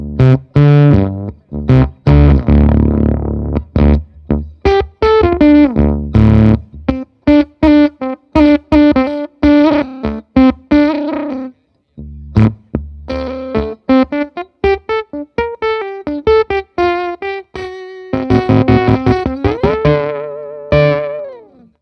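A guitar effects pedal pushed into glitchy gating distortion, with choppy, stuttering bursts of fuzzed guitar notes that cut in and out abruptly over about twenty seconds, loud and alone.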